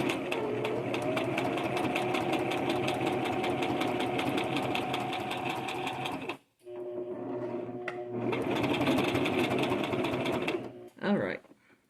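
A sewing machine stitching a pocket onto a purse, running in a steady, fast mechanical whir for several seconds, briefly pausing, then resuming before stopping, with a person speaking over it.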